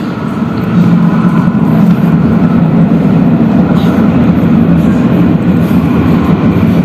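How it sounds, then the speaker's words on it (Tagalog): A train arriving at a station in Athens rumbles loud and close, a dense continuous roar of rolling wheels and motor that holds steady throughout without voices. "may train na parating sa kabila"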